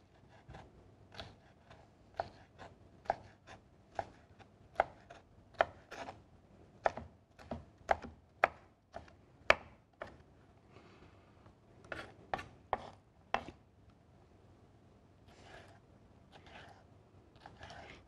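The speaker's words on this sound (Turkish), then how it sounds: "İlk önce uzun şerit şerit kesip ondan sonra da ufak ufak doğrayacağım." An onion is cut with a knife, first into long strips and then into small dice, for a spinach quiche; quiet, close knife strokes tap in a steady, quick rhythm on a board, pausing briefly before resuming.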